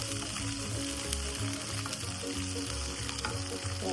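Onions and okra frying in a pan, a steady low sizzle with some stirring and clattering, moderately quiet and close.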